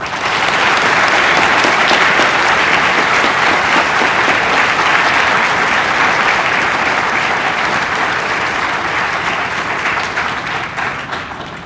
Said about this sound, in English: Please join us in a round of applause for our Air Force veterans.